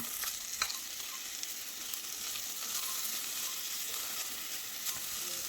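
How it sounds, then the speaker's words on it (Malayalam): Cauliflower stirred into vegetable kurma frying in a pan, giving a steady bright sizzle with a few soft scrapes of the spoon, fairly quiet and without talk. "ഇട്ട് കൊടുത്ത് ഒന്ന് ഇളക്കി കൊടുക്കാം."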